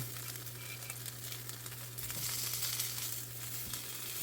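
Onions sizzle and fry in a Smithey cast iron farmhouse skillet, a steady close hiss with soft crackles and a constant low hum beneath, swelling slightly midway.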